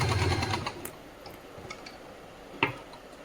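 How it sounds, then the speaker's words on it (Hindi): A sewing machine stitching elastic onto a salwar runs in a short rapid whirr at the start, then stops, leaving quiet handling clicks and one sharp knock. "तो पहले तो एक हम क्रॉच एरिया के पास में एक सिलाई लगा देंगे"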